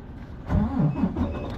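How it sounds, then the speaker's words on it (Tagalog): A truck engine turns over and catches, a brief close rumble of cranking that settles into a low idle. "Start ko lang siya guys para uminit naman yung makina."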